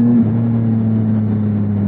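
A Triumph Tiger 1050 motorcycle with its quickshifter removed holds a loud, close engine drone, the pitch shifting briefly at the start before settling into a steady tone.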